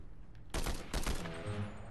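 Rapid bursts of Fortnite gunfire crack loudly and close after a brief quiet stretch, two dense volleys a fraction of a second apart, then a ringing tail with faint game tones.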